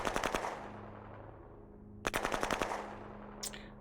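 Machine-gun fire in the strategy war game Shadow Empire comes in two rapid bursts of several shots each, loud and alone, separated by a fading tail, with a brief sharp crack near the end.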